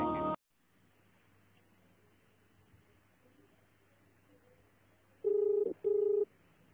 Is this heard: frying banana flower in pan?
no